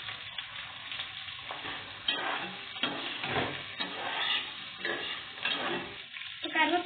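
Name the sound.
green chillies frying with onions in a pan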